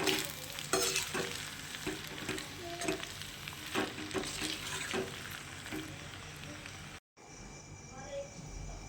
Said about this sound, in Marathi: टोमॅटो सॉस पण पुन्हा थोडासा टाकणार आणि मिक्स करून घ्यायचं